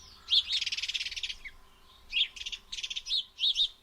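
House sparrow chirping nearby, a quick rattling run of bright chirps followed by several shorter clustered bursts with brief pauses between them, clear against a quiet background.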